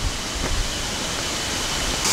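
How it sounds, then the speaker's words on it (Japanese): Steady broadband roar of Shiraito Falls, a wide waterfall near Karuizawa, heard close and continuous with no voices over it. "ここが白糸の滝ですが、すごいところですよね。"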